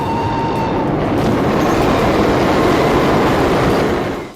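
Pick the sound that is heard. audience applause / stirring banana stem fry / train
train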